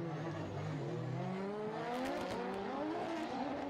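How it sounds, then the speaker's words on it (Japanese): Formula Drift Japan drift cars accelerating at the start of a battle run, their engines revving loud and rising in pitch together with a sustained, layered roar, while a commentator talks over the noise. "さあ加速をしていく、まずは久しぶりのゾーン飛び込みだ"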